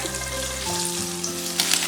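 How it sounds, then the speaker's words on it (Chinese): Diced pork fries over low heat in a wok, giving a steady, close sizzle that holds throughout with a faint stir near the end. "把切好的猪肉丁给它倒入锅里，用小火煎出多余的油脂"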